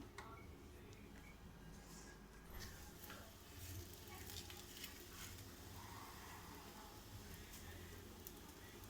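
Paneer masala paratha laid on a hot tawa gives off a steady, broadband sizzle that holds evenly throughout, with faint scattered ticks on top and no talking.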